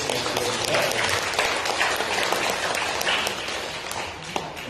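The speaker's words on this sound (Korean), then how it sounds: "축하하고 격려하고 박수해 주시면 좋겠습니다." Church congregation applauding a newly elected women's association president during a Sunday service, steady dense clapping filling the room throughout, moderately loud with no talk over it.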